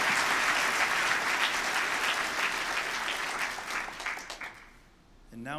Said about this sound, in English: Let's give our community supporters a round of applause.